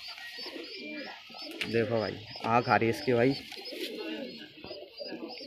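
A captured jeera pigeon coos softly in short, repeated rolling phrases while being held close, with someone speaking over and between the calls.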